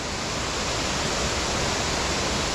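The Wharnley Burn waterfall roars in a loud, continuous, even rush of falling water that fills the whole clip, with no voices.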